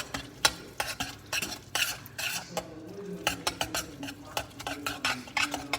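A spoon stirring food in a pot for fish tacos, with rapid, uneven scraping and clinking strokes against the metal over a low sizzle, close and continuous with no talk.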